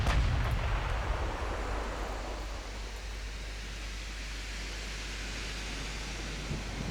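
Naval guns fire in the warship battle game Ultimate Admiral Dreadnoughts: a loud opening blast swells into a heavy, sustained rumbling roar of broadband noise that holds steady for several seconds, with a faint extra thud near the end.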